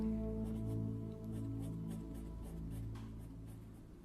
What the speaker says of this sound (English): Just doing it with colored pencil because we're lazy.